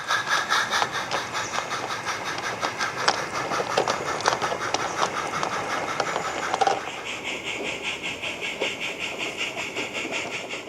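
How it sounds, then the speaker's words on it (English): A train rumbles and hisses steadily as the ore train departs a station on a light railway, with clanking and a brief high whistle-like tone partway through, before a steady hissing drone takes over. "the up ore train departs, leaving the station free for Manning Wardle Loco Buckley to commence its shunting"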